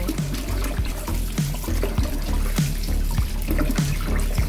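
Pork spare ribs being washed under a running kitchen tap, with steady water flow and repeated splashing and clunking as the ribs are handled in the sink, close and continuous.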